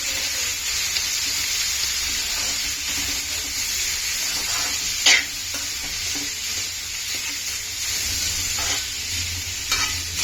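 Chopped cabbage stir-fried for homestyle chicken fried rice, with a steady loud sizzle and repeated scraping stirs in the pan, plus a couple of sharper clanks, with no talking.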